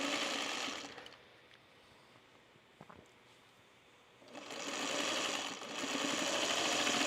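A sewing machine pieces quilt star blocks in two bursts of steady, close whirring stitching separated by a quieter pause with a few small clicks.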